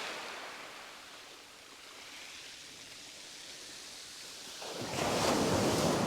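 Steady surf rolls on a beach under a soft wash of wind, then a larger wave breaks and surges loudly near the end.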